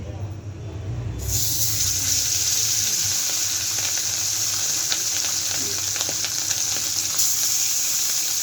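Poa fish frying in a pan bursts into a loud, dense sizzle after a quieter start, then keeps up a steady crackling hiss with occasional pops while a voice talks faintly in the background.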